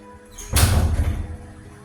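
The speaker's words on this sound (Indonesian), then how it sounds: "dengan cara tutup pintu" A door is shut in a room before a nursing procedure, heard as a single fairly close thud with a short rumbling decay after a quiet start, and no voices.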